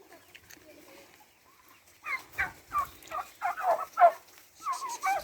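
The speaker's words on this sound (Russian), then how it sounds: "Белые индюки." Several white turkeys gobble in quick bursts, a run of warbling calls close by after a quieter opening with faint background noise.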